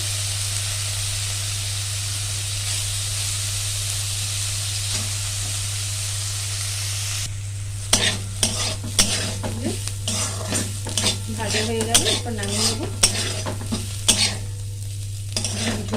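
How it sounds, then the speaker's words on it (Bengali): Bottle gourd peel and a little potato fry in a pan with a steady, loud sizzle, then a utensil stirs and scrapes through them in a run of clattering strokes over the hiss. "শুকনো হাতে খেতে খুব ভালো লাগে লাউ খোসা একটু আলু দিয়ে কম করে করে ভাজবো"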